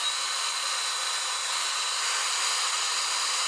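A Shark FlexStyle air styling and drying system runs at a steady, even whoosh of blowing air. The hiss is loud and constant throughout, with no talking.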